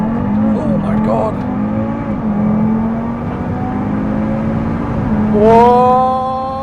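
Stage 1 tuned Audi RS3 making a launch start, a loud steady engine drone inside the cabin that climbs into a rising rev as the car pulls away, with a voice heard over it.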